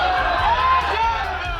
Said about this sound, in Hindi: प्रदर्शनकारी सैकड़ों की संख्या में थे, हाथ में भगवा झंडा लेकर नारेबाजी करते हुए मकबरे की ओर जा रहे थे।